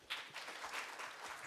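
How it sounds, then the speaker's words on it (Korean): Quiet audience applause at a forum on radioactive waste disposal, a soft smattering of claps from a seated crowd that holds at a low, even level for a moment. "큰 박수 부탁드리겠습니다."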